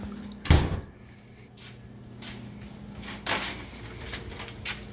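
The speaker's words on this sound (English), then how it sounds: "So we're going to close the door" A door shuts with a single sharp thud early on, followed by quieter knocks and shuffling in the room.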